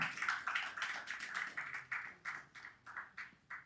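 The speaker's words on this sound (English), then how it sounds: "thank you very much, everyone, for the round of applause." Faint, thin clapping from a small audience at an investor summit, with quick, fairly regular bursts of claps rising and falling, distant and sparse.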